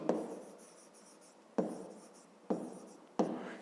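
Numbers written by hand with a pen or pencil on paper during a fifth-grade math exercise, quiet close scratching strokes, each beginning with a sharp tap, four in a row.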